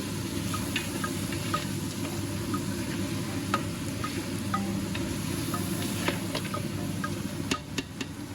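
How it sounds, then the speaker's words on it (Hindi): Ginger paste and garam masala sautéing in a pan for mutton pulao, a continuous soft sizzle with scattered small pops and ticks, steady and close with no voices. "और अब मैं इसमें डाल रही हूँ अदरक की पेस्ट और साथ ही मैं इसमें ऐड करूँगी गरम मसाला। इसे मैं अच्छे से भून लूँगी।"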